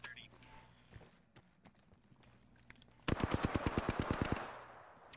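Rapid automatic gunfire from a video game, a loud burst of about a dozen evenly spaced shots, preceded by scattered quieter shots and clicks, with voices talking over it.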